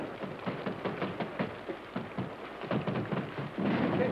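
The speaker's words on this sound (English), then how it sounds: "Holy smokes, it's raining." Steady rain falls during a thunderstorm, with dense patter and a series of dull thumps and low rumbles rolling through, fairly close and continuous.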